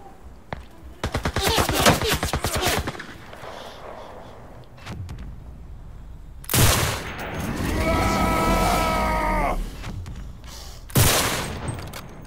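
Sniper gunfire from the video game Cuisine Royale, with a rapid burst of shots early, then a loud crack followed by a sustained tonal drone and another sharp shot near the end.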